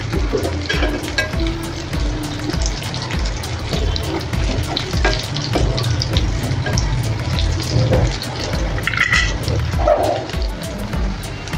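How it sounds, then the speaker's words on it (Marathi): Beetroot and potato cutlets with poha shallow frying in a pan, a dense continuous crackle and sputter of oil, close and fairly loud, with a dog barking faintly now and then in the background. "मस्त असे सगळे कटलेट मी ह्याच्यावर शॅलो फ्राय करायला ठेवलेत।"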